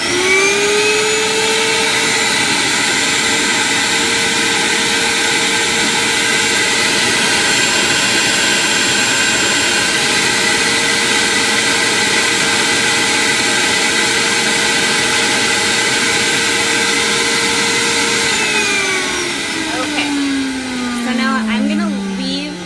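A loud vacuum-forming machine's vacuum runs with a steady whining roar and droning tones while forming tooth whitening trays, then winds down with a falling pitch near the end.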